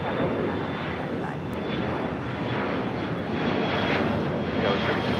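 Airliner engines at LAX run as a loud, steady broadband roar on the runway, continuous and unbroken throughout.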